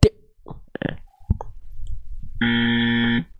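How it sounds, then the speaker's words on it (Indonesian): A wrong-answer buzzer sounds near the end: a harsh, loud sustained electronic blare lasting about a second, preceded by a few scattered plops and knocks. "kalau ada suara alarm seperti itu berarti tetot, keliru ya."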